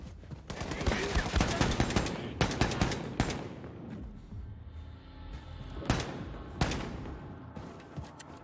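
Gunshots crack in Wolfenstein II: The New Colossus, with clusters of sharp rapid shots early, then isolated loud blasts later over a lower game rumble.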